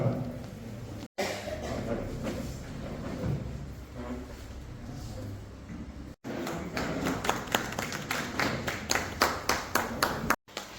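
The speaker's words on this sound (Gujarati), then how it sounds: "તાળીઓના ગડગડાટથી તેમને વધાવી શકો." A Lions Club general meeting audience in Nadiad breaks into clapping, scattered at first under murmuring and a voice, then building to sharper, louder rhythmic hand claps near the end, with brief cut-outs in between.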